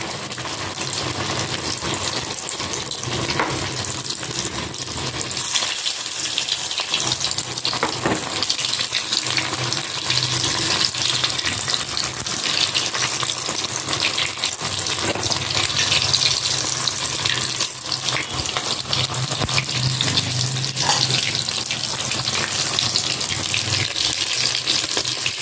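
Paneer cheese pakoras frying in hot oil produce a continuous loud hiss and crackle, dense and even for a long stretch with small bursts of spitting from water in the oil.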